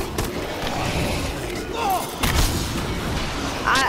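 Explosion from a thrown bomb in a solo zombies video game, a loud booming burst partway through amid dense game noise and chatter-like sounds.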